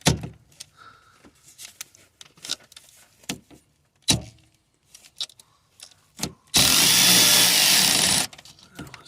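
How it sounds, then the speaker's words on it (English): An electric ratchet loosens an alternator bolt on a Vauxhall/Opel Zafira B 1.9 CDTi, a loud steady whir of almost two seconds after scattered clanks and tool handling. "we're gonna use our electric ratchet to get down on here and just get onto these."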